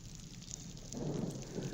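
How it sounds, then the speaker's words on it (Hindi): Heavy rain pours down during a storm that has flooded streets and cut power across several districts, a steady dense hiss that swells louder partway through, with no voices. "कई जिलों में झमाझम बारिश हो रही है।"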